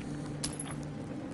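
Keys jangle briefly as they are picked up in the video game Metro 2033 Redux, a light metallic clink over a steady low hum of game ambience.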